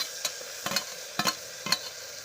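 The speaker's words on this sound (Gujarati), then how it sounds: "હવે નાખી દઈશું આપણે ટમેટા।" Tomatoes go into hot oil after onions and are stirred in a pan, a faint background sizzle broken by four short scraping spoon strokes, close and without talk.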